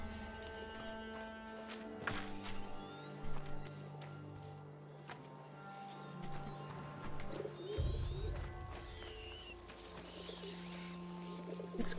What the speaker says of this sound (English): Do I hear a pigeon? I hear a pigeon.